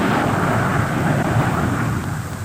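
The Concorde 02 prototype jet makes a high-speed pass over Toulouse airfield, a loud, dense, continuous roar that stays near full strength for the whole stretch and eases only slightly at the end, with no voices.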